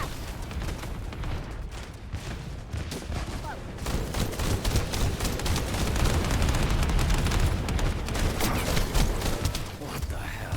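Explosive blasts and rapid gunfire crash through a busy battle in The First Descendant, loud and dense throughout with layered booms, rattling shots and a voice speaking over the chaos.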